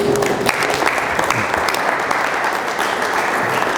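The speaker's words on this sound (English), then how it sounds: "Give me a round of applause, please." Steady audience applause fills a conference hall at a business growth summit, dense and sustained clapping throughout with a faint voice or two beneath it.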